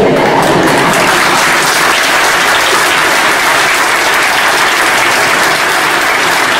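Loud, dense applause from a large audience at an award ceremony fills the whole stretch, a continuous close wash of clapping with no pauses or voices.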